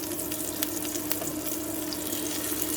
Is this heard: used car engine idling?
no